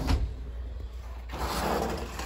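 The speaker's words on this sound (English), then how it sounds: "So the patio door just slides." Patio door on a 2019 Avenger 35RES RV rolling open along its track, a brief thump and then a smooth gliding rumble with a faint whine in the background.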